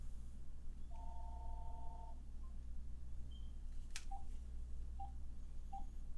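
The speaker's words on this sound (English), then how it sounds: "Let me try calling my shop phone real quick." A phone dials out to an electronics repair shop's phone: a steady dual-tone keypad note lasts about a second, then a few short faint beeps follow over a constant low electrical hum, with no talking.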